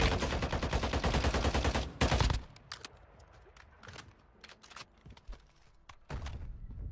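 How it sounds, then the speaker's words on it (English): Gunfire in Warzone Mobile, with loud sustained bursts at the start, then scattered sharp single shots and short bursts, some near and some farther off, before another loud burst near the end. "They shoot good, man."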